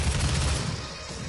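Rapid gunfire from a weapon in the video game Doom, a dense, continuous burst of loud shots that fills the short moment with no speech.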